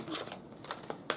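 Quick papery riffling and soft slaps of tarot cards being shuffled, a few brief bursts close by, fairly faint.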